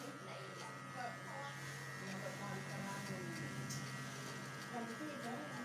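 Electric hair clipper buzzing steadily while cutting a fade haircut at a barbershop, a continuous close whine with people talking over it.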